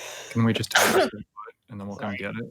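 A single sharp sneeze bursts out amid a conversation at a tabletop role-playing session, with voices talking just before and after it.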